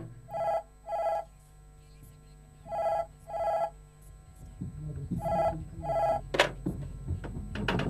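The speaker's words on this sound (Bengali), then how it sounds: "এই দীপঙ্কর, তোর ফোন" An old telephone bell rings in three double bursts, clear and nearby in a quiet room, then a clunk as the receiver is lifted and rustling follows.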